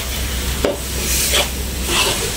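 A spoon stirs a mixture containing two spoonfuls of wheat flour for kuih badak berendam, a Malay sweet. Soft, close scraping strokes sweep through the mixture, with one sharp knock early on.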